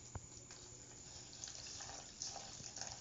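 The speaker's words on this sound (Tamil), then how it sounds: "நம்ம மாவுக்கு எப்படி தண்ணி போடுவோமோ அந்த மாதிரி தண்ணி போட்டுக்கோங்க" Water poured into adai batter for crispy Tamil-style lentil pancakes, a soft continuous trickle and splash close by at low level, with a few small clinks, and no talk.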